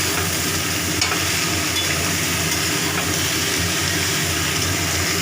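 Mixed vegetables with kakrol and eggplant are stir-fried in a pan, giving a dense, continuous loud sizzle with constant scraping and stirring throughout.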